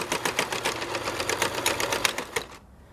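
A sewing machine runs a seam in a rapid, even mechanical stitching chatter, close and fairly loud, stopping abruptly near the end.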